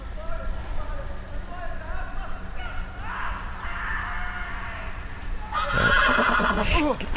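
A horse whinnies repeatedly in Telltale's Game of Thrones video game, its calls rising over a steady game soundtrack and ambient noise, with a louder, sharper neigh near the end.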